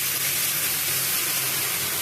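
Spice paste hitting onions frying in a pan, a loud, bright, continuous sizzle with dense crackling hiss for about two seconds.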